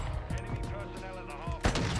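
An SP-X 80 sniper rifle in Modern Warfare 2 gameplay fires a single loud, sharp shot near the end, heard over steady game background noise and chatter.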